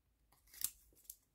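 Serrated-edge scissors snip through paper during fussy cutting, making two quick, faint, crisp cuts close by in a quiet room.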